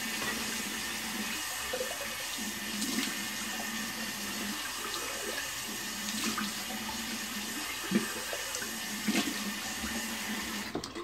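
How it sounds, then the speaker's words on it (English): Cold water runs from a tap for a quick rinse, a steady soft hiss of flowing water with a few faint knocks and splashes, quiet and continuous. "Cold water rinse real quick."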